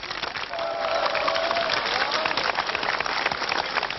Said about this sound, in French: À Gdansk, dès ce matin, c'est-à-dire avant la victoire définitive, la foule enthousiaste acclamait le héros du jour